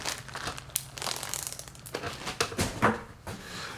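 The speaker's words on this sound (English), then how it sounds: "Put the plastic bags in here as well" Plastic bags crinkle and rustle while being packed into a waterproof container on a canoe fishing trip, a close run of irregular crackles and crumpling bursts with brief pauses and no talking.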